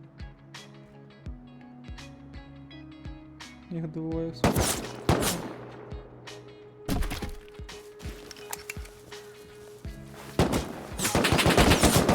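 Rapid bursts of automatic gunfire from an AK rifle and a machine gun in the video game Rust rattle loudly over a tense musical backdrop, with heavy volleys erupting in waves and scattered single shots between them.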